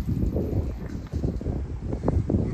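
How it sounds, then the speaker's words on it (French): Gusty outdoor wind buffets the microphone with a steady low rumble and irregular surges beside a 1978 Volkswagen Combi T2b Westfalia camper in Helsinki. "Navré pour le vent."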